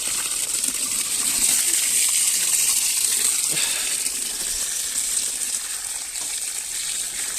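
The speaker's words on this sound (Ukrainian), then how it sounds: "Береться шланг з водою." Water gushes steadily from a hose, pouring into a container while threshing pumpkin seeds, a continuous loud hissing rush with no talk.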